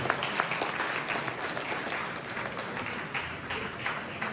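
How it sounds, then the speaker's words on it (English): Sustained audience applause fills a hall at a formal community breakfast event in Canada, a dense steady wash of many hands clapping at a constant level with no talking over it. "Let us give him a big round of applause."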